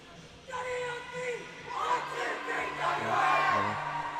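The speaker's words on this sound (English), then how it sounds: "Good cheer from the West Australian bench." Shouts and cheers go up from the Western Australia team bench during a tournament game against Queensland, a crowd-like roar rising after the first half second and staying loud, with voices mixed in.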